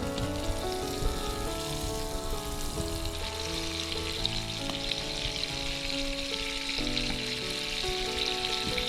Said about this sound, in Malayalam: നമ്മുടെ ചിക്കൻ ഇതിനകത്തിട്ടൊന്ന് ഇത് ചെറുതായിട്ടൊന്ന് ഫ്രൈ ചെയ്തെടുക്കാം